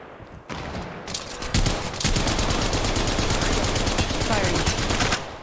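Rapid automatic gunfire in the Apex Legends Mobile shooter game, a loud dense string of shots close up that runs for several seconds before stopping abruptly.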